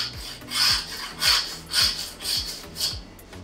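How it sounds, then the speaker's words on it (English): A long 22-inch hand saw cuts through a beef fore quarter from local Essex cattle in a butcher's shop: about six even back-and-forth rasping strokes, close up, with no talking. "I'm just going to use a long saw for this one. This is like a 22 inch saw."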